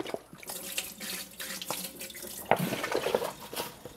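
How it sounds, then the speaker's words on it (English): Water gushes quickly from the wide open mouth of an MSR Dromedary reservoir bag, a steady splashing pour lasting several seconds with a few louder glugs near the end, close by and with no talking. "If you need a little bit more water, you want it to come out a little bit faster, it has a cap that comes off."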